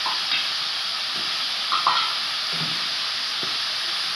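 Tomatoes and green chilies hit cauliflower frying in a pan, a continuous steamy hiss with a few small clatters and taps of ingredients dropping in, no talking.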